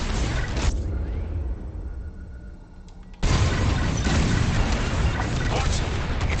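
Bombs exploding during a bombing raid in a Star Wars space combat video game, heavy booming blasts and rumbling explosions that swell loud and dense after a brief quieter stretch, with game chatter mixed in.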